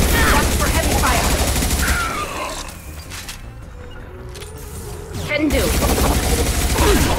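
Heavy automatic gunfire in the sci-fi shooter Mass Effect 2 on the Horizon colony, loud dense bursts at the start and end with a quieter lull in between, and a brief spoken reply over it.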